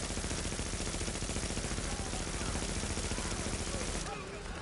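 A weapon in The Division fires rapid automatic gunfire, a dense unbroken stream of fast, loud shots that eases off near the end.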